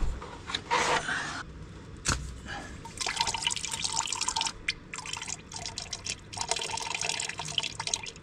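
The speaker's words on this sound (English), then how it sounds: "Let it drain out first." Fluid drains from a JCB into a bucket, a close trickling and splashing stream with intermittent drips and a few knocks, with no voices.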